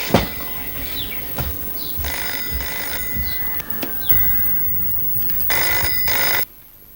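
A telephone bell rings loudly in repeated bursts over a steady background hiss, with faint bird chirps between the rings before the ringing stops abruptly.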